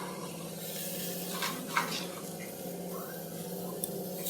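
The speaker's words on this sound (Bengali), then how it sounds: "ভালো করে নাড়িয়ে নেব।" Spiced potato masala filling being stirred in a pan for masala dosa, a soft steady scrape and faint sizzle with a few light utensil clicks, close and alone.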